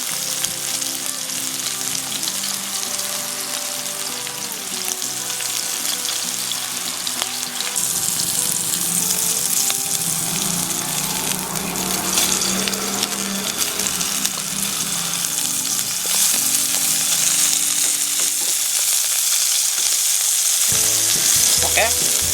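Food sizzles steadily in hot oil in a pan while mushroom pasta is being made, a loud continuous crackling hiss with occasional stirring and clinks.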